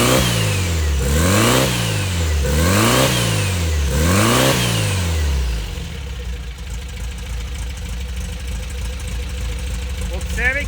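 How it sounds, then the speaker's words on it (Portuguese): A supercharged engine is revved in four rhythmic rising-and-falling bursts, with a whistling supercharger sweep on each rev, then settles to a rough idle with no voices. "Observem que esse assoviado que ele dá é justamente a pressurização."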